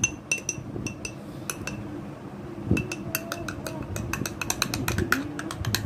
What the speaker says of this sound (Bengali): এবার সুন্দর করে এটাকে মিক্স করে নেব